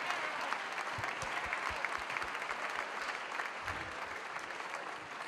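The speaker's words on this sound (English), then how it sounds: "So give them a round of applause." Audience applause after a high school spring band concert, a dense steady clapping from a crowd in a hall lasting throughout, with some low thumps mixed in.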